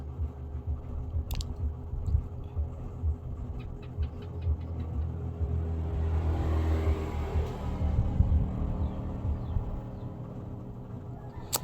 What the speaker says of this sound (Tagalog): mayroon nang dumadaan ng mga motorsiklo pero kaunti lang po guys